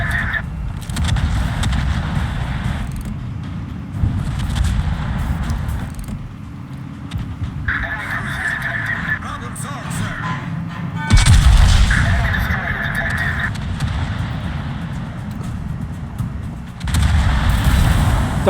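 Naval video game with the battleship Sicilia firing its main guns at a distant Montana, heavy booming salvos and rumbling over engine noise, with someone talking throughout.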